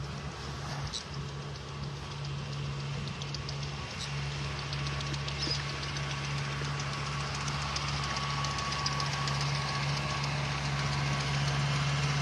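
A beach-raking tractor engine on a North Naples, Florida beach runs in a steady low drone and rumble for the whole stretch, with no talking.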